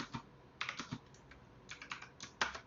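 Keys clack on a computer keyboard in two short bursts of quick, close taps separated by a brief pause, entering a number, with no voices.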